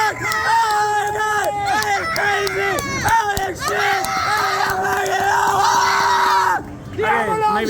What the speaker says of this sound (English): We gotta cheer.